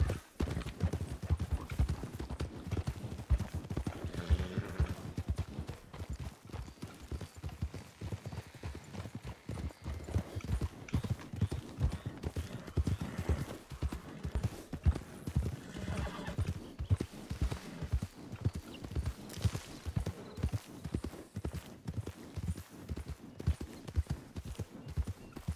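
Horse hooves clip-clop in a steady, continuous rhythm throughout the RedM western roleplay game, with an occasional whinny or neigh rising above the trotting and a faint voice at times.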